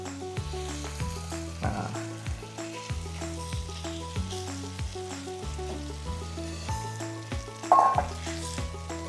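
Marinated chicken sizzles steadily as it hits a hot pan of fragrant garlic and onion, a continuous close frying hiss with a brief louder crackle near the end.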